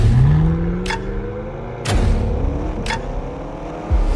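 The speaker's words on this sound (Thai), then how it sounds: "แมคลาเรน GT คันนี้เป็นหนึ่งในกองทัวร์เลอร์ที่ขับดีที่สุดเท่าที่เคยขับรถแนว GT" A McLaren GT grand tourer drives along, its engine note rising and falling steadily with a deep rumble and a few sharp transient clicks, fairly close and with no talk.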